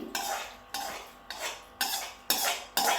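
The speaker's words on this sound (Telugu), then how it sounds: "ఇప్పుడు దీంట్లో చింతపండు గుజ్జు మనం తిరగమాత వేసిందంతా దీంట్లో కలిపేసుకోవాలి నేను కలుపుతాను" A utensil scrapes and stirs tamarind pulp into a tempering in a pot in a village-style broad bean pickle, in six evenly spaced strokes, each one close and clattering against the metal.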